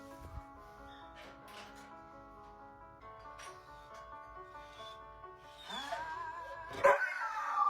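A dog reacts to a song playing nearby. The music runs throughout, then the dog breaks into loud yips, whines and barks near the end, rising over the tune.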